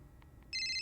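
Telephone ringing during a staged stage performance: a sudden bright electronic ring begins after a quiet stretch with two faint soft tones, loud and alone.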